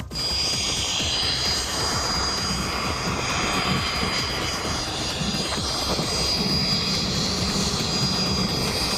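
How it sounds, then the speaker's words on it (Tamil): A helicopter making an emergency landing with a mechanical fault roars steadily and loudly, droning continuously with a rushing wind-like hiss and no pauses. "ஹெலிகாப்டரை விமானி அவசரமாக தரையிறக்கினார்"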